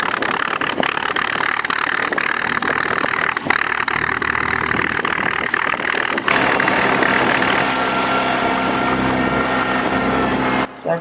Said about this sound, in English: And here's Boyd's 5-bottom Oliver plow.